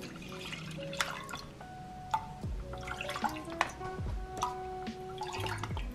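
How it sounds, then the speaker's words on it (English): Water, about 600 cc, is poured into a soup pot for a Korean home-cooked recipe: a faint, close trickle with irregular drips and splashes against the metal pot. "I'm gonna add some water."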